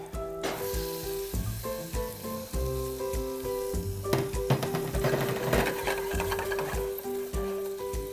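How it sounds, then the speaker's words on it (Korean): Onions sautéing in melted butter in a pan, a steady frying sizzle broken by irregular stirring scrapes and clinks, heard close with no talking. "자, 버터가 이제 녹기 시작을 하면 양파를 볶아 줄 겁니다"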